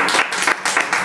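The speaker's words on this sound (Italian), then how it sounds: "E poi facciamo un applauso a chi ha contribuito" Short burst of applause from the audience at a makeover show finale, dense loud clapping with slight pulsing over about a second.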